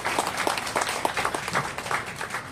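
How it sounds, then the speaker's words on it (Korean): An audience at a church memorial hall opening ceremony claps for several seconds, a moderate, scattered round of applause with individual claps distinct rather than a dense roar. "한번 큰 격려의 박수를 한번 부탁드립니다"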